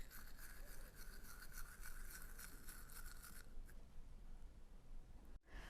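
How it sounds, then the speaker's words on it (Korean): A toothbrush scrubs against teeth up close with a steady, continuous bristly rasp that keeps going for several seconds, with no talking. "안쪽으로 위치시키고 칫솔질을 해야 합니다."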